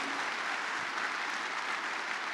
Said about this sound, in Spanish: Vamos a dar un aplauso al Señor por los procesos que están en nuestras vidas.